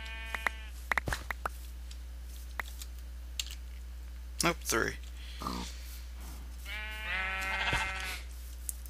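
Sheep bleating inside the video game TerraFirmaCraft, a couple of short wavering bleats near the end, mixed with keyboard clicks and brief speech in a quiet room.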